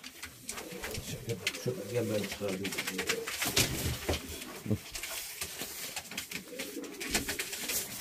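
Pigeons coo in low, rhythmic bursts close by, with rustling and wing flutters, while someone talks over them in Turkish.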